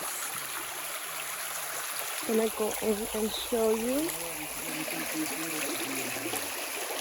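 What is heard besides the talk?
clear river stream flowing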